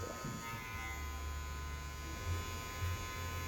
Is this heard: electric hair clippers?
yes